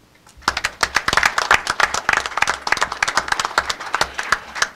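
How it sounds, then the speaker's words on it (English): A small group at a press conference claps, with distinct, close individual claps in an uneven, brisk rhythm that starts after a short quiet moment and keeps going. "deserves a round of applause"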